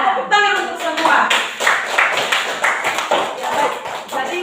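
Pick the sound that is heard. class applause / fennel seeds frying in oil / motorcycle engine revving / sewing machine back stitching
class applause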